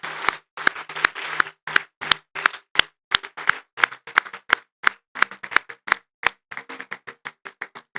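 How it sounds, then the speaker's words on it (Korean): Congregation applauding in a church service after a baptism, a burst of fairly close hand claps in a quick, slightly uneven rhythm that continues for several seconds before thinning out. "세례 받은 아이들 여러분 박수로 축복해 주십시오."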